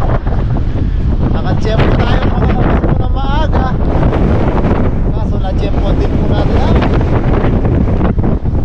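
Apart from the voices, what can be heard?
strong wind at sea on the microphone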